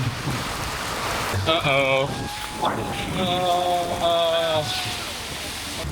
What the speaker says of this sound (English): Oh, that's a lot of rain.